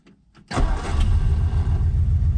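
A 1951 Ford Custom with a flathead V8 cranks briefly, then fires and catches into a loud, steady rumbling idle, close by, after sitting unused for 42 years.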